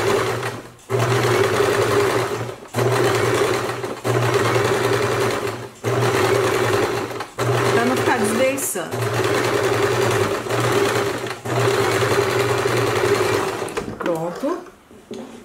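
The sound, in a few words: sewing machine stitching a dress lining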